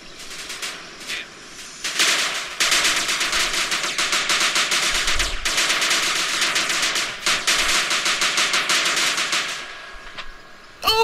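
Sustained, loud machine-gun fire in GTA San Andreas rattles in rapid continuous bursts for most of the clip, with short pauses between strings of shots.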